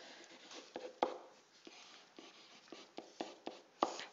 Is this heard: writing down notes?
yes